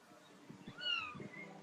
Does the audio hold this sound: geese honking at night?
no